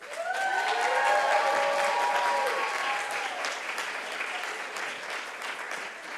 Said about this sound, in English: Let's give one last round of applause.